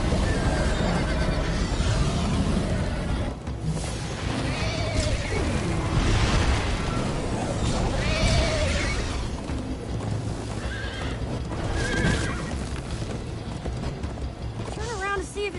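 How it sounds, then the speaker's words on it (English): Horse whinnies and neighs from Minecraft Story Mode, over a dense bed of game music and effects, with voices talking through much of the ride and faint hoof clops mixed underneath. "First time on a horse here."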